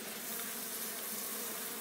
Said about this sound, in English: As you can see, the bees are in a defensive mode protecting the hive.